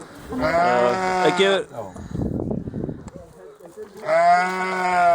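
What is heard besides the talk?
sheep (ewe) bleating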